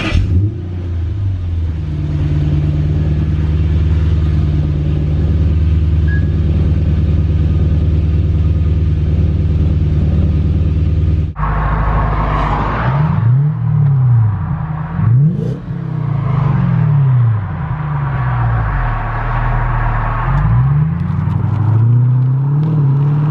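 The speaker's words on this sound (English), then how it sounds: "So yeah guys, that is the exhaust I have on the Crown." Toyota Crown Majesta UZS186 with a Blow Design exhaust idling after a cold start in a deep steady rumble, then revving and driving off with repeated rising and falling exhaust sweeps, loud and close.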